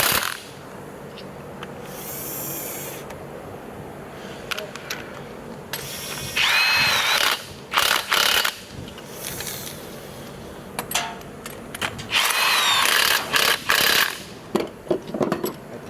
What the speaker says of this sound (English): and then I'll grab my ratchet afterwards.